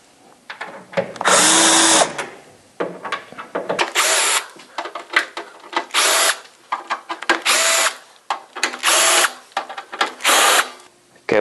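Cordless power drill backing screws out of a refrigerator panel during a defrost thermostat replacement on a Santa Fe Advance2, sounding in about six loud, close whirring bursts of one to two seconds each, with quiet handling noise between them.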